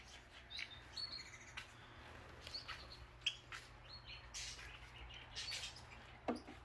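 Small birds chirping and tweeting on a Korean farm that keeps chickens and goats, scattered short calls at a moderate distance over a steady low outdoor hum, with no talking.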